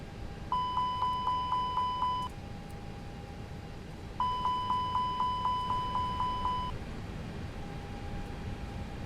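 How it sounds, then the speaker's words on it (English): Fire alarm test in an Airbus A320 cockpit in the X-Plane 11 flight simulator: two bursts of rapid repeating electronic chimes, each lasting about two seconds, over a steady cockpit hum, with a sustained tone near the end. "And we'll check our fire alarm."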